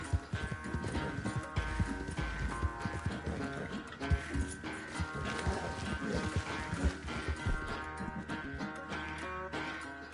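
A horse gallops in a video game, with rapid continuous hoofbeats over game music and background effects, steady and moderately quiet throughout.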